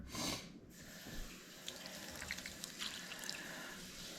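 A brief splash of running water at the start, followed by quiet wet squelching and small drips as water is worked into a sausage mixture.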